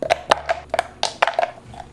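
Ice cubes drop into a blender for a smoothie, a quick series of about ten sharp, close clinks and cracks at uneven intervals.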